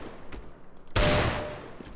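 A burst of gunfire in Counter-Strike: Global Offensive aim training, one loud rapid volley that starts abruptly and fades over about a second, after quiet game ambience.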